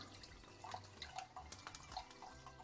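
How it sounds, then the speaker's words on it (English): Fish marinade liquid poured off into a sink or container, a soft continuous trickle with scattered small drips, quiet and close, with no talking. "Let's pour that off."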